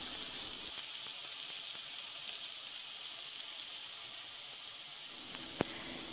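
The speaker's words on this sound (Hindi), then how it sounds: "नमक और मिर्चों को भिंडियों के साथ थोड़ा सा फ्राई करना है" Okra frying in a pan with salt and chillies gives a soft, continuous crackling sizzle, fairly quiet and even, with one sharp clink near the end and no talking.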